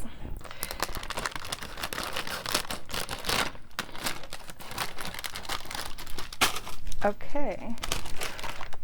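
Packaging of a new Ferrero Rocher product being opened with scissors, a run of crinkly rustling, snipping and tearing noises up close, with a brief spoken word near the end.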